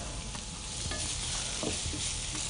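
Potatoes and capsicum stir-fry in a hot pan with a steady, close hiss of sizzling oil and occasional soft scrapes of stirring, with no voices.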